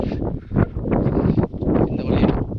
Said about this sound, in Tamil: காற்று செம்மையாக வருது.